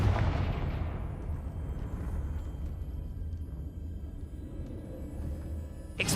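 A Confringo blasting spell explodes in Hogwarts Legacy with a sharp blast at the start that fades into a long low rumbling tail, and another burst pops at the very end.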